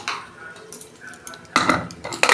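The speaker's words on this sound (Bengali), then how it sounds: "এই যে আটকে দিচ্ছি প্রেসারটা।" Metal clatter and clinks as the lid of a pressure cooker holding washed dal, water, tomato and turmeric is fitted and locked, a few sharp louder knocks near the end, no talking.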